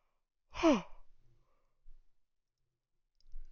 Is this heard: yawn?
yes